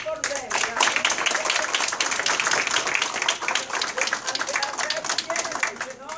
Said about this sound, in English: and we clap for them